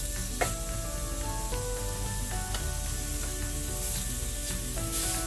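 A seasoned beef burger patty for cheddar sliders sizzles in a hot pan, a steady, close frying hiss with a brief contact tap near the start and no talking.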